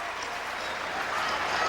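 Tennis crowd applauding at the US Open, a steady, dense wash of clapping from many hands at a distance, sustained evenly throughout without pauses.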